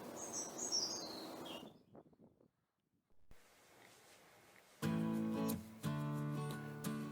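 Birds sing and chirp at a bird observatory beside the wetland nature reserve of the Loch ponds near Lorient, Brittany. Trilling calls come first, then a quiet pause, then louder, close, tonal song phrases.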